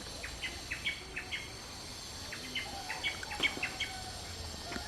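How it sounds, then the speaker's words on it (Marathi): A chichori bird calling on a cloudy day in rural Konkan, short high chirps repeated in quick clusters at a moderate distance, faint against a steady hiss of insects and outdoor ambience. "तो आवाज येतो आहे तुम्हाला, त्याला चिचोरी बोलतात"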